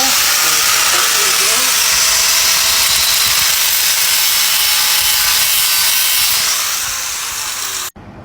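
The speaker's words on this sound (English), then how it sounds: "we're gonna grind a little bit of the pieces off." Grinder cutting pieces off a wrought iron gate, a loud, continuous harsh hiss and rasp held for several seconds up close before stopping abruptly at the end.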